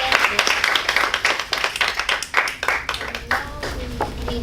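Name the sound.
audience applause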